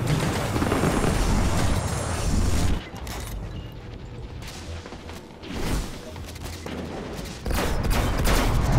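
Rapid gunfire from the video game Destiny, fired in dense bursts with a brief quieter stretch in the middle, loud and close, with distant battle mechanics behind it.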